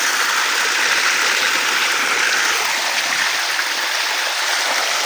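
Water rushes through a hose beside a river in a constant, dense, close splashing flow, with no breaks or voices over it.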